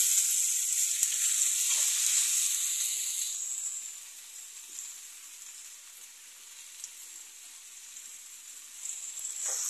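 Onions and tomato fry in oil with a soft, steady high sizzle that eases off midway and then picks up again, fairly faint and close.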